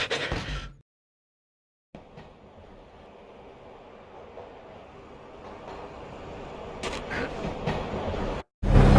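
A steady low rumble of a train in motion with faint rhythmic rattling, opening and closing with brief loud cuts and a silent gap early on.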